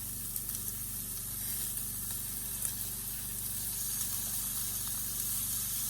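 Bourbon bacon BBQ chicken kebabs sizzle steadily on a hot grill as they are flipped, a continuous close hiss and crackle with a few small pops, no voices.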